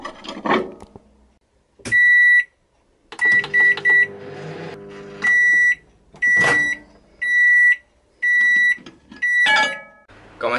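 A microwave oven heating sausage rolls gives a run of loud, high, evenly spaced beeps, separated by near silence, with a short running hum and a few door clunks mixed in.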